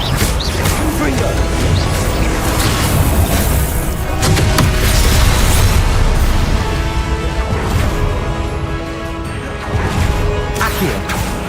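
Confringo fire spell explosions in Hogwarts Legacy, dense crashing blasts and whooshes running continuously and loudly for the whole stretch, with game music and effects layered underneath.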